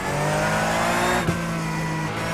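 A Porsche 911 GT3 Cup race car in iRacing at Interlagos screams at high revs, the loud, steady engine note holding briefly before a quick gear shift and continuing on.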